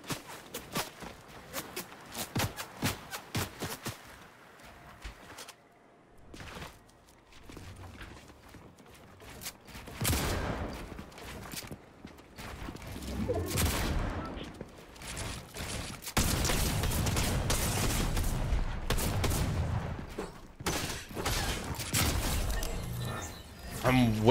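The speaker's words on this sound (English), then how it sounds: "Who's shooting at me?" Gunfire in a Fortnite solos match comes as rapid sharp cracks early on, followed by denser, louder bursts of action noise, with someone talking throughout.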